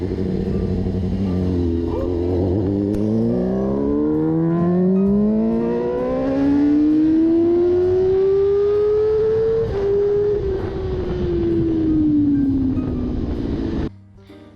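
A freshly built motorcycle rides off with a loud close engine roar, revving up through rising gears and holding a high pitch before easing back, ending abruptly.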